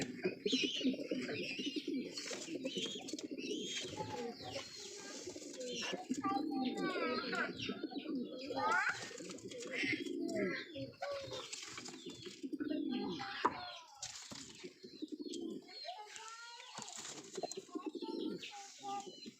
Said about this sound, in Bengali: এই জায়গায় একটা কবুতর আছে, এই কবুতরটা আনছিলাম